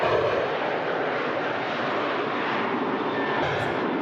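Steady broadband roar of a passenger jet's engines at Manchester Airport, loud and continuous throughout with no talk.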